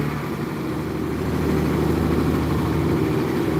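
Front-mounted Nissan engine of a bus idling at a bus terminal, a steady low rumble with a continuous droning hum, loud and close, running without interruption.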